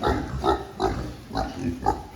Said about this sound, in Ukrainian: бачите, свинки поїдають зволожений корм.